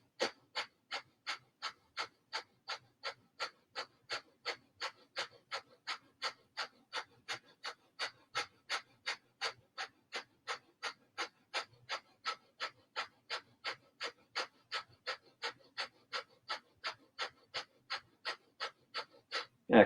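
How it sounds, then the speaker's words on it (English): Yoga fire breath: rapid, forceful rhythmic breathing, about two sharp breath pulses per second, steady and close for twenty seconds with no talk. "Here you'll take a quarter breath in and begin a fire breath."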